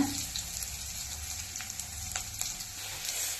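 Onions sauté in a pan for a goat liver and lung gravy, giving a steady close sizzle throughout with faint scraping ticks of stirring and no talk.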